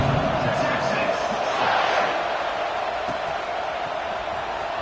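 A football stadium crowd roars as a steady wide wash of noise before kickoff, swelling briefly and holding loud throughout, with no clear voices standing out.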